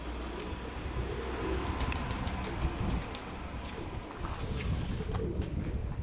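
Young pigeons turned out into a yard for the first time coo softly amid rustling and faint bird calls, with low background rumble throughout.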